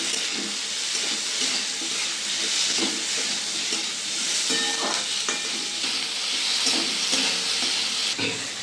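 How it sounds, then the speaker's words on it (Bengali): Onion, tomato, ginger and garlic fry lightly in oil in a pan, giving a loud, continuous close-up sizzle and hiss with occasional scraping stirs, and no voices. "আমি এটা হালকা করে ভেজে নেব।"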